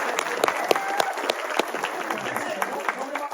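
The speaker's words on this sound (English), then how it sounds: "can we get a round of applause for the cast one more time" Audience applause for the Smallville cast at a Comic Con panel, scattered individual claps standing out over steady clapping and crowd noise.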